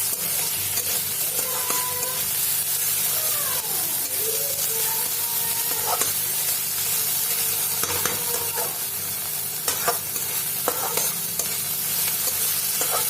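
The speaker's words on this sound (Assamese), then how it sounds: "এতিয়া আমি অলপ সময় ভাজিম, আদা নহৰু কেঁচা গোন্ধখিনি নোযোৱালৈকে।" Crushed ginger and garlic fry in hot oil in a pan while a spoon stirs them, giving a steady sizzle broken by scraping strokes and occasional clinks, close by with no voices.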